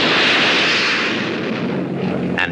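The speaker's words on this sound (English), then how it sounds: "And jet met jet in combat." Jet fighter aircraft in combat roar past in a loud, broad, continuous rush of engine noise that slowly fades, with a brief sharper burst near the end.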